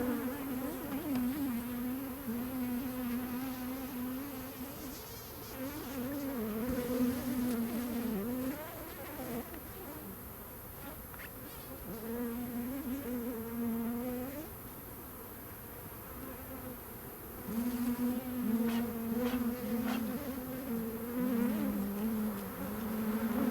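Honey bees buzz steadily around hive frames on a farm during honey harvest, a dense, close swarm drone that swells and fades without any voices.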